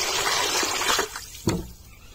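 Water splashes and trickles into a pot holding fish for washing, a busy pouring rush that fades out before a final short splash.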